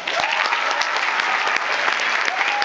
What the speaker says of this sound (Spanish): por favor, un fuerte aplauso para la banda.